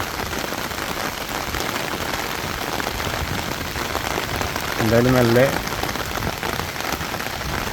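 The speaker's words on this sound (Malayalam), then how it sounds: "അടിപൊളിയായിട്ടുള്ള മഴയുണ്ട്" Heavy rain pouring down around a house in Kerala, a dense, steady hiss of drops on surfaces throughout, with a brief spoken phrase rising over it midway.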